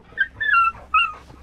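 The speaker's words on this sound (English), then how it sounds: "Today, a mama dog and her two puppies live here." A dog and her puppies at an abandoned border fortress in Bosnia and Herzegovina let out a few close, high-pitched whimpers and yips in short bursts.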